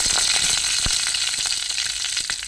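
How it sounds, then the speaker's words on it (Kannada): Mustard seeds sizzle and crackle in hot coconut oil for a bitter gourd palya, a dense steady hiss with scattered sharp pops and one stronger crack, close and loud throughout with no voices. "ಈಗ ಎಣ್ಣೆ ಬಿಸಿ ಆಯಿತು. ಸಾಸಿವೆ ಹಾಕ್ಕೊಳ್ತೇನೆ"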